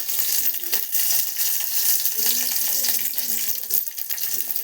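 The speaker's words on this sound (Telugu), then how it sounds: "కరివేపాకు వేసుకున్నాం. చిటపట్లాడుతుంది." Curry leaves spluttering in hot oil with onion and garlic in a pan, a steady loud hiss and crackle of frying that runs throughout, close and continuous.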